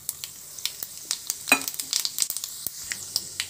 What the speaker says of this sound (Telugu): 1/2 టేబుల్ స్పూన్ జీలకర్ర వేస్తున్నాను